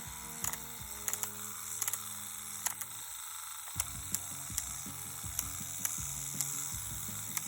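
A CNC T4 tattoo machine running with a steady mechanical hum and tonal buzz, broken by sharp clicks from its click grip being turned, with a brief lull in the middle and no voices.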